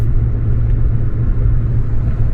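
Steady low engine rumble heard from inside a stroker Acura TL while driving, a continuous deep drone with road noise and no breaks.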